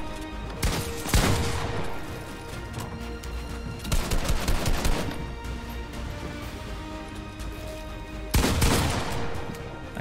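Gunfire in the video game Fortnite comes in loud, dense bursts of rapid shots with short pauses between them, close and continuous under a busy game soundscape; no talk is heard.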